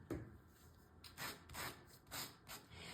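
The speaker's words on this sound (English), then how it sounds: "I'm going to sand this a little bit more" Embossed paper is sanded with a sanding block in soft rhythmic rubbing strokes, about four quiet passes after a brief pause, close and faint.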